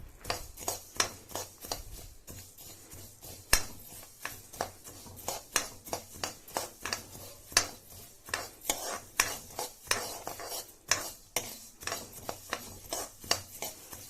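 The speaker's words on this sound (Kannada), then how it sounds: "ಎಣ್ಣೆ ಹಾಕ್ದಿರೇ ಡ್ರೈ ರೋಸ್ಟ್ ಮಾಡ್ತಾ ಇದ್ದೀನಿ" Rasam powder spices dry roasting in a pan without oil, with steady rhythmic scraping and stirring of a spoon against the metal pan, close and fairly quiet, with no one speaking.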